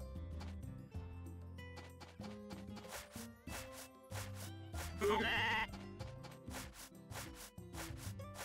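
Video game sheep from Story of Seasons: A Wonderful Life bleat in a clear burst midway, set over cheerful background music with rhythmic plucked notes.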